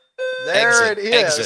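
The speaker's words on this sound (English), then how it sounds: "That is the alarm of terrible picks going off right now." A bell-like alarm sound effect rings out with bright sustained tones, and a voice quickly starts talking over it for the rest of the brief moment.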